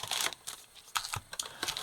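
Plastic wrap on an Alpha Clash booster box gets torn and crinkled open in short, quiet bursts of crackling and ripping, close up, with brief pauses between pulls.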